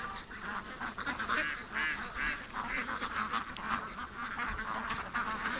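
Wild duck honking and quacking near a pen, a steady run of repeated calls at close range with no talking.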